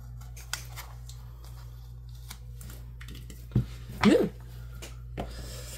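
An X-Acto craft knife cutting paper, sparse scraping and slicing scratches separated by quiet gaps, with a sharper cluster of cutting strokes near the end.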